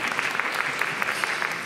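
Audience applause at a science fiction festival conference, a steady wash of clapping from a crowd that holds for the whole short stretch with no voices over it.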